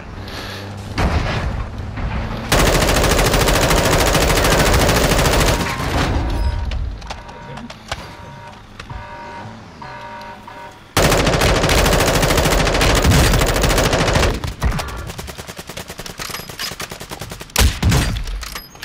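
Loud, sustained video-game gunfire: dense automatic bursts and single sniper-like cracks with booming impacts, pausing briefly before another long barrage, with a player's voice faintly under the shooting.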